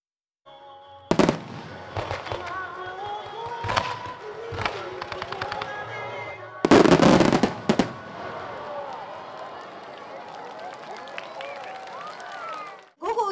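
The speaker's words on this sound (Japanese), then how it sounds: "今月3日、福山夢花火が開催され、およそ5000発の花火が夜空を彩りました。" Fireworks at the Fukuyama Yume Hanabi festival, with some 5,000 shells set to music, boom and crackle in irregular bursts, one dense, loud volley near the middle, with crowd voices audible between the blasts.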